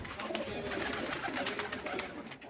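A female Assu pigeon coos softly and steadily at close range over a rough, noisy background.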